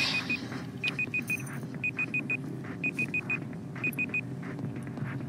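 A kitchen timer going off during cake baking, repeating bursts of four quick high beeps roughly once a second over a low background rumble, moderately loud and without talk.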